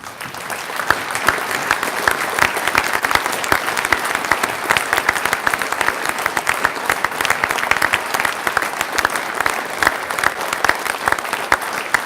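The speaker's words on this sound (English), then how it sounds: "I'd like you all to stand so we can all give you a round of applause." Crowd at a Hayfield Veterans Day ceremony applauding veterans, steady, dense clapping from many hands that holds at an even, fairly loud level for about twelve seconds.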